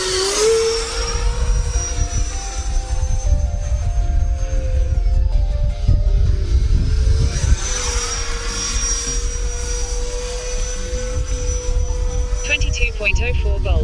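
A stabilized RC jet plane flies a Cobra maneuver overhead, its engine whining steadily and rising and falling in pitch as it passes, with wind noise under it throughout.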